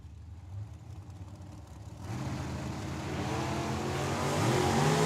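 At Tucson Dragway, a 1967 Camaro and an 08 dragster launch side by side. Engines roar and swell sharply as the cars accelerate hard down the strip, growing steadily louder and rising in pitch, with no talk over it.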